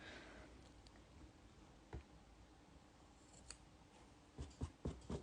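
Scissors trim embroidery thread on a stitched piece, giving a few faint, close snips, one isolated and then a quick cluster of four, over a soft steady background hiss.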